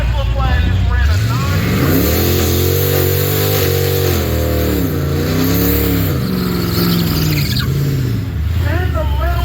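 A 5.7 liter Hemi car drag racing a Tesla Plaid, its engine revving loud and close in rising and falling sweeps with a brief tire squeal, continuous for the whole stretch.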